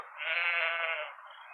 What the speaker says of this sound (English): Sheep! Mouflons, to be exact, Pencroft.